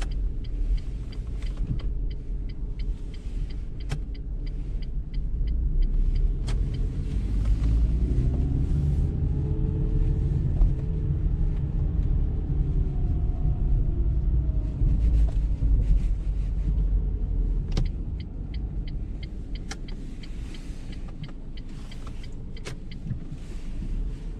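A gasoline-powered car driving in dense, packed traffic, with a steady low engine and road rumble throughout, a slow swell in the middle and faint tonal whine, no talking.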